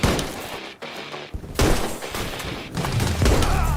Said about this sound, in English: They came straight in shooting, bro.